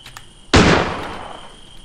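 Gunshot in the Granny horror video game: one sharp, loud bang that decays over about a second with no talking.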